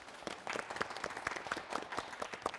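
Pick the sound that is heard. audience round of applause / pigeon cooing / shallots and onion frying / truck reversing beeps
audience round of applause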